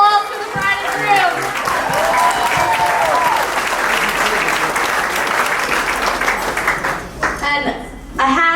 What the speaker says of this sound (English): let's give another round of applause for the bride and groom